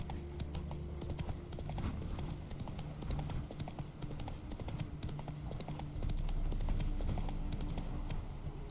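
Horse hooves trot in steady clip-clop rhythm across The Witcher 3, close and continuous over a constant ambient bed of game sound, with no speech.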